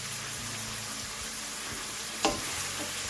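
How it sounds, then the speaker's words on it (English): Turmeric powder and garam masala fry in a hot pan for a lamb chops masala curry, a dense, continuous close sizzle with one brief clink of a utensil near the end. "I'm going to fry this"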